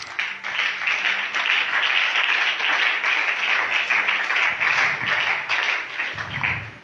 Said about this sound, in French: Est-ce qu'on peut acclamer pour la lecture?